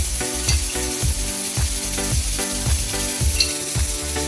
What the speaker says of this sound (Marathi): आता याच्यामध्ये मी 1 चमचा तूप टाकते.